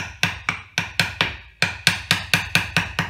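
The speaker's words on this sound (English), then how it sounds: "because I need myself with a hammer to break it." A hammer strikes a block of handmade soap in a soapmaker's workshop: about a dozen sharp, close, loud whacks in a steady rhythm, each with a short decay, with no talk.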